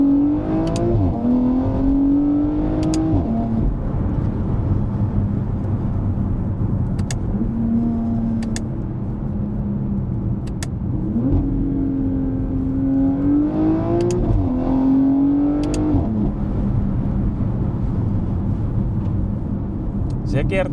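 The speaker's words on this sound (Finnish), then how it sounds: "Nyt on tosiaan siis Sport Plussa ja läpät on auki, niin otetaan tosta yksi kiihdytys." A Porsche Panamera 971 in Sport Plus with exhaust flaps open accelerates hard, its engine note rising through several gear changes, loud and close from inside the cabin, with someone talking over it.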